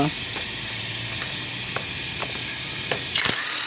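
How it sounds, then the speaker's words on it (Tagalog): A socket ratchet wrench clicks in short, irregular bursts while loosening bolts on a Honda CT125 motorcycle, faint against a steady hissing background. "Magamit tayo ng dosing socket para matanggal natin yung tuntungan."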